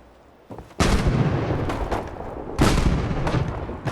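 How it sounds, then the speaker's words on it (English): A junk mortar in Fallout 4 fires two heavy booms, each with a sharp onset and a long rumbling roar trailing after it, close and loud, and nobody speaks. "and then the junk mortar over here. Let's make sure that it works."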